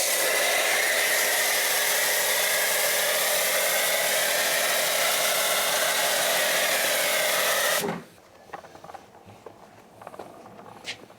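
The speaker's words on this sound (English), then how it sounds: "We like to apply via the foam cannon because we get great coverage on the wheel" A foam cannon sprays P&S Brake Buster wheel cleaner onto a car wheel as a loud, steady pressurized hiss for about eight seconds, then cuts off abruptly, leaving faint scattered drips and small handling noises.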